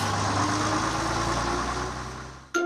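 A cartoon bus engine idles steadily with a low, constant hum that fades gradually, then a brief sharp tonal burst cuts in at the end.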